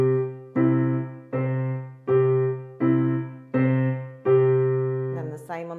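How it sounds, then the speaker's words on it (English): Piano plays a broken chord with left-hand octaves struck on each note, six or seven evenly spaced sustained strikes ringing loud and close, with a brief voice starting at the very end. "You just hit this octave on every part of the broken chord."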